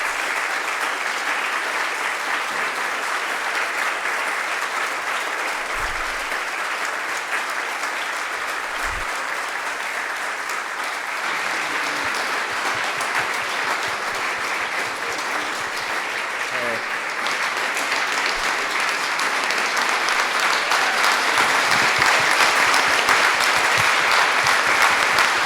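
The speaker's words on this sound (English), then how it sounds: "I can tell by that resounding applause you all enjoyed yourself" Sustained, dense audience applause after an evening reading fills the room for about twenty-five seconds, even and continuous, swelling slightly louder toward the end with no break.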